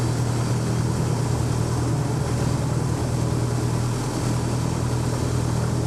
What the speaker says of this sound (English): In a minute you'll see my instructor Rob Holland taking off on the runway ahead